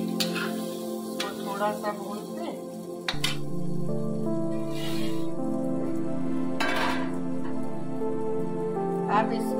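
Paneer stir-frying in a pan for palak paneer, a steady soft sizzle with stirring scrapes throughout, under a speaking voice.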